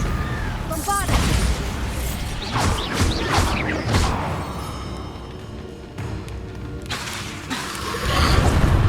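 The Bombarda blasting spell goes off in Hogwarts Legacy: several booming, crashing bursts come in quick succession amid clattering game effects and other game sounds.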